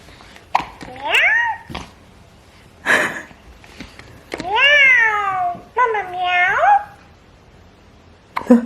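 A cat meows several times, close and loud, each meow rising and falling in pitch, separated by short quiet gaps.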